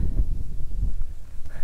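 Gusty wind buffets an outdoor microphone on a roadside, producing loud, uneven low rumbling bursts that pulse irregularly throughout.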